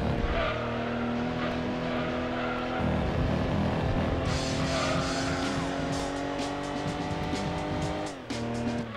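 A race car in the Gran Turismo 2 video game roars at about 100 mph with a steady, loud engine drone, shifting pitch as it corners, with brief tire squeal and a gear change near the end.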